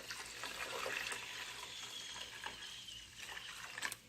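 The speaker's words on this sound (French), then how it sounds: "On va mettre de l'eau, d'accord?" Water pours steadily into a cooking mixture for an African dish, a continuous splashing, trickling rush close by with a few brief knocks, and no talking.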